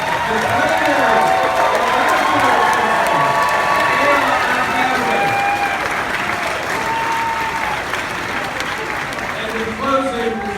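Crowd at a Gamecocks Sweet 16 basketball pep rally applauding and cheering for the assistant coaches, a loud, steady wash of clapping and shouts held throughout.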